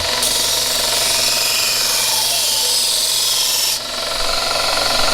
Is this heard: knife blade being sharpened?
yes